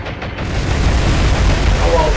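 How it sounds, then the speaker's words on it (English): Shell explosions striking a Mogami-class cruiser in the naval game War on the Sea, a loud deep boom swelling into a sustained rumbling roar over about two seconds. "that explosion on the first Mogami looked much better than it was in the end"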